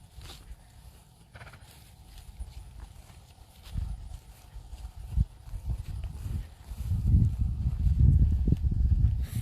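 Hooves clop on the ground as horses walk close by on a farm, their steps growing louder and busier toward the end, with faint rustling around them.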